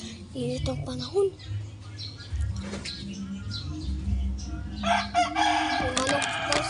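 A rooster crows in short bursts mixed with clucking, loud and close, while people talk over and between the calls.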